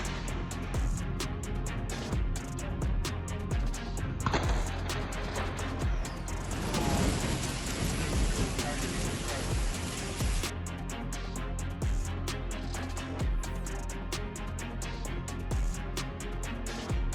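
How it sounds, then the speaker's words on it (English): Powerful thunderstorm with heavy rain in Pudasjärvi, a loud dense roar of downpour and wind throughout, swelling midway into a harsher, brighter surge before settling back to steady heavy rain. "A powerful thunderstorm swept through Pudasjärvi, causing extensive property damage."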